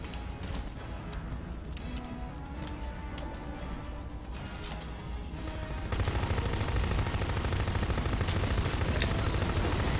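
Rapid automatic gunfire in a video game, a continuous dense rattle of shots that grows louder and heavier partway through, with no speech.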